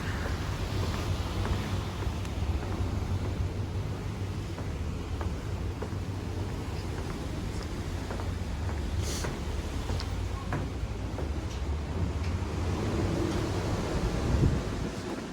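Wind and waves on the Caspian Sea heard from aboard a ferry: a constant rough rush with low rumbling surf and buffeting gusts, no voices.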